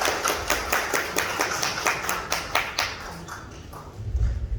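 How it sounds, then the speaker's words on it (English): An audience at a Nepali sleep-medicine conference claps in a steady, rhythmic patter that fades out after a few seconds, followed by a low thump. "A big round of applause everyone."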